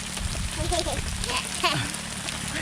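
Heavy rain pours down steadily around a hut in the rural countryside, a dense, constant hiss throughout, with people talking over it.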